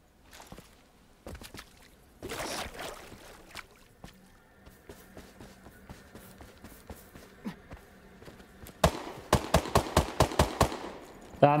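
Gunfire in the video game Hawked, rapid bursts of shots rattling out in clusters, with a dense volley near the start and a loud, close string of sharp repeated reports toward the end, over faint background game ambience.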